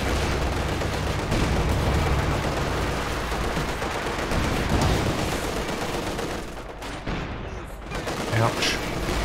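Tank cannon and gunfire in a Company of Heroes 2 1v1 match with a KV-1 and Panzer IV: dense, continuous battle din of shots and explosions throughout, with one sharper burst near the end.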